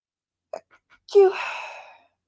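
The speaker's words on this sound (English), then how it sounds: "hold on, I gotta sneeze" A single close sneeze: a few quick catching breaths, then a sharp burst trailing into a breathy exhale.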